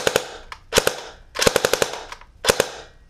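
A G&G FN2000 airsoft gun fires in short full-auto bursts, four quick rattling strings of sharp cracks separated by brief pauses, loud and close.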